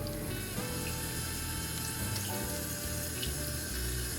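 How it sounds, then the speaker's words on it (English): Cold water runs steadily from a tap, a continuous hissing splash with slight shifts as raw chicken is rinsed under the stream. "we are going to rinse the chicken off with some cold water"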